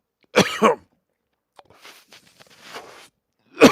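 A harsh burst of coughing up close after a strong THC rosin hit, then a pause and a run of fainter rough coughs and wheezy breaths, ending with another sharp cough.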